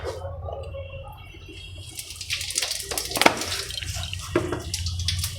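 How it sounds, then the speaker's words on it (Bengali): Cumin seeds hit hot oil for a Bengali masala koi tempering and break into a bright, crackling sizzle that swells after a quiet start and stays close and steady, with a few sharper pops. "এর মধ্যে দিয়ে দেব প্রথমে অল্প কটা জিরে ফোড়ন"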